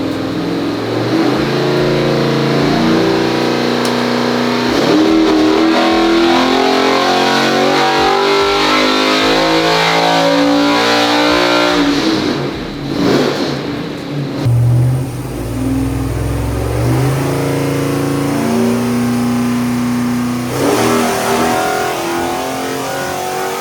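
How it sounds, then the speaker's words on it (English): A Boost District spec 427 engine built for a C8 Corvette roars on an engine dyno, loud and close, with sustained revving that climbs in pitch, drops off briefly, then revs hard again. "I'm going to be doing a dyno run for the engine dyno on our boost line built boost district spec 427"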